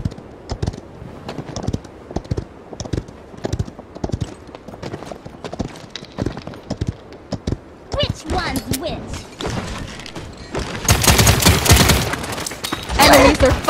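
Repeated weapon fire in the video game Paladins, a steady train of sharp shots through most of the stretch that swells into a louder, denser burst near the end, amid game effects.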